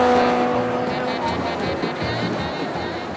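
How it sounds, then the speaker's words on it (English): Classic American cars at an outdoor car show, a steady engine and traffic drone with some tire noise and murmuring voices underneath, fairly loud and continuous. "wouldn't it be cool if there was a car show or something with classic American cars? And we might have just accidentally found that"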